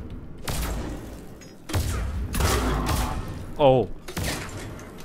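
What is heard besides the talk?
Falcon shot explosions in Mass Effect 3 video game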